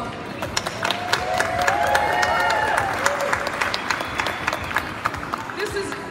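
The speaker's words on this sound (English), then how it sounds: "can we just give our models a round of applause?" An audience applauding models before a fashion show, sustained clapping from a crowd with some cheering mixed in and faint voices underneath.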